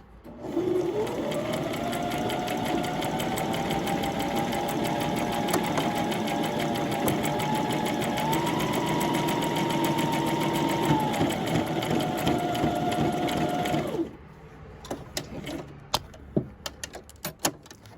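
Sewing machine fitted with a buttonhole foot stitching a buttonhole: a steady close mechanical whir with a rising and falling motor pitch for about 14 seconds, then stopping, followed by light clicks and handling.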